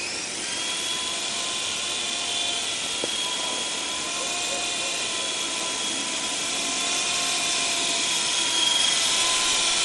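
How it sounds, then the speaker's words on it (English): A small RC aircraft whirs steadily in a close, continuous high-pitched drone as it lifts off and settles onto a landing pad, rising slightly louder near the end. "just a little bit of takeoff and landing practice here"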